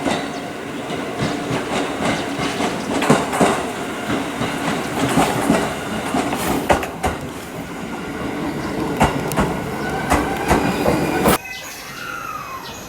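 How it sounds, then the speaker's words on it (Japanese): A JR West Wadamisaki Line train rumbles and clatters into a station, wheels squealing and clicking over the rails, before the noise drops abruptly as it comes to a halt. "折り返し兵庫行きとなる列車が到着。"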